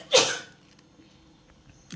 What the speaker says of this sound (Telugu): ఘాట్ వస్తుందా మమ్మీ? తుమ్ముతున్నావా?